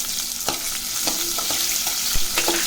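Green chilies, dried red chilies and onions sizzle steadily in a hot pan, with a spoon scraping and stirring through the frying in a few sharp clatters.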